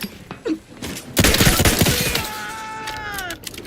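Gunfire in The Outer Worlds 2 video game, a dense loud burst of shots lasting about a second, then ringing tonal effects and brief voices.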